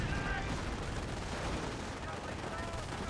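Continuous dense artillery fire and gunfire from a Company of Heroes battle, a steady rumbling barrage with crackling shots throughout, loud and unbroken.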